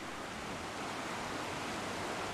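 Strong, muddy current of the Talek River in the Serengeti, a steady broadband rush of flowing water, loud and continuous without a break, with no voices present.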